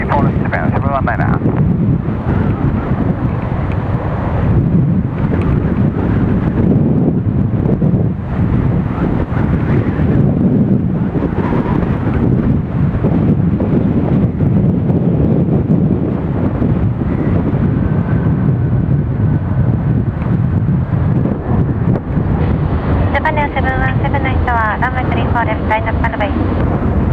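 A jet airliner taking off from runway 34 left in strong, dusty wind, heard as a continuous loud roar smothered by heavy wind buffeting on the microphone, with a rising engine tone near the end and voices faintly mixed in.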